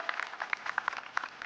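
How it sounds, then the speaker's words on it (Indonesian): A studio audience at The Great Magician talent show gives Felia scattered applause, with light, fairly faint claps rattling steadily for a moment and no voices over them. "Tolong demi tepuk tangan dulu buat Felia"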